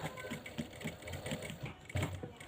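A sewing machine stitches in a new zipper on a pair of jeans, its needle running in a quick, even chatter that is quiet and close.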